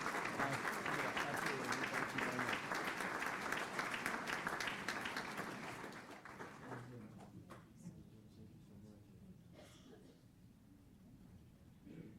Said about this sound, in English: how about a huge round of applause for Amy Ferris, our A-plus Educator of the Month